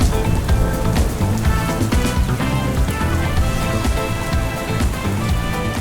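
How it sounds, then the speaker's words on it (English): Heavy rain pours down in Malaysia near a dam, a dense, loud, continuous hiss of drops drumming on surfaces with no pauses. "we've gone from hot and sunny to a downpour in less than an hour"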